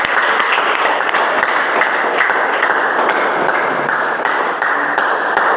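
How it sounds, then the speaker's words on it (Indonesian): Classroom applause for a student after a science presentation, a steady, close wash of many hands clapping that lasts throughout with no talking over it. "Beri tepuk tangan untuk Silpa."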